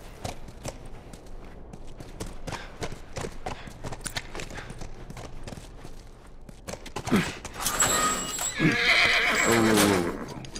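In The Last of Us video game, a horse's hooves clop and shuffle steadily, then the horse lets out a loud, drawn-out neigh near the end.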